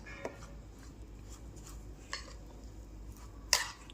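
A spoon scrapes and taps against a bowl while mixing yogurt into semolina (rava) batter, soft stirring under a few sharper clinks, quiet and close with no talking.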